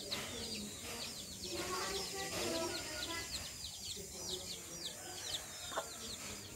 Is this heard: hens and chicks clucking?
yes